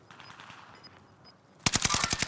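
Burst of rapid automatic gunfire in a military shooter video game erupts after a quieter stretch of faint in-game ambience, with sharp repeated shots loud and close through the last second.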